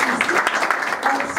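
A room of people applauding a woman at a women's celebration gathering, a short burst of dense clapping mixed with voices.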